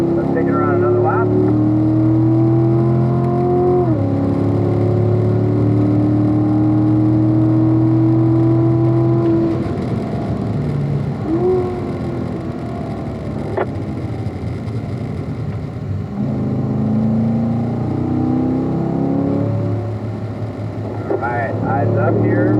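A Corvette laps a road-racing circuit, its engine droning loud and close with pitch climbing through the gears and dropping on lifts, while an instructor talks over it.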